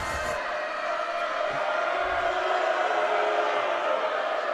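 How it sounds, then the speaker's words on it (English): A basketball game crowd roars steadily while the opposing team's cheerleaders make noise, a loud, sustained indoor wash of voices and cheering with no clear single speaker. "A lot more noise from the crowd here."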